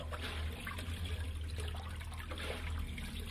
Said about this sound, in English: there's a lot of water flowing through it.